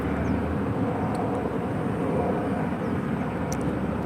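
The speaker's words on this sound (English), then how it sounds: "United 194 taxiing out to 28 off to Munich today. It's a 23-year-old 777." A 23-year-old United Boeing 777 taxiing out at an airport, a steady broad jet engine roar with a low rumble, continuous and moderately loud, no talk.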